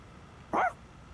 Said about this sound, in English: Damn, outed by the dog.